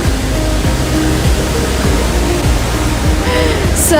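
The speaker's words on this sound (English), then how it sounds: "I just enjoy this view, really close with the waterfalls." Water rushes at Tegenungan Waterfall in Bali in a dense, unbroken roar heard from close by, loud and steady, with faint brief tonal sounds near the end.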